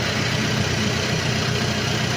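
A Toyota Innova engine runs with its muffler removed, giving a steady, loud, unmuffled drone with a low rumble and no voices over it.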